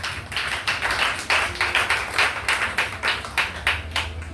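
A church congregation claps in a steady rhythm, about three claps per second, in a roomy, reverberant space, with no voices over the clapping.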